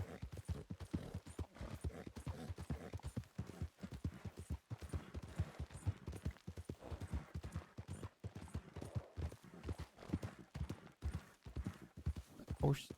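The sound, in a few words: horse hooves clip-clopping in WildRP (Red Dead roleplay) video game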